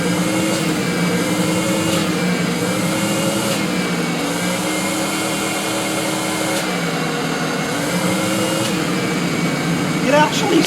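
An old, weathered, long-forgotten shop vac runs steadily throughout with a loud, continuous motor whine and rough airflow rush, near and constant, with a slight surge at the end.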